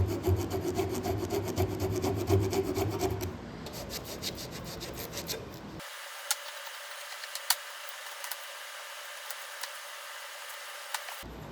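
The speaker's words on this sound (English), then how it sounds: "there's a little bit of cleanup that I did with some files and rasps and" Files and rasps cleaning up a wooden hat rack piece, steady scraping strokes for a few seconds, then quieter scattered rubbing and light taps after the filing stops.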